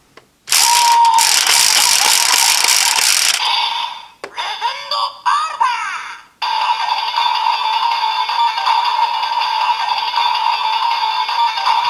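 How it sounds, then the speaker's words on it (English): A DX Tiger Dora transformation toy from Avataro Sentai DonBrothers spins and ratchets loudly, then falls into a steady, bright electronic standby tone that keeps looping. "sometimes it will have a more high-pitched, more energetic version of the standby spinning sound"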